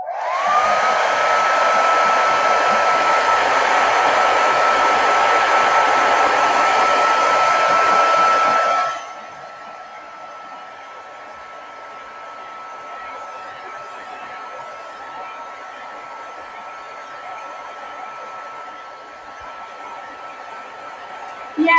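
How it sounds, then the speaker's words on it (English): A hair dryer blowing on watercolor paper roars loud and steady for several seconds, then cuts off, leaving a faint lingering hum and quiet room tone. "we're gonna grab our hair dryer. We're gonna blow dry the top of this page one more time"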